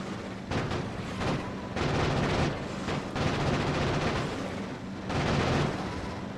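Sustained gunfire in the factory-building video game Factorio: a dense, loud roar of rapid shots that runs continuously, with heavier surges in several bursts and no talking.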